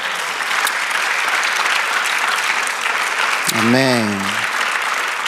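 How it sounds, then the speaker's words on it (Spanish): Church congregation applauding during a Spanish-language sermon, a sustained wash of clapping that fills the whole stretch while a single voice calls out briefly near the end. "Dale el aplauso."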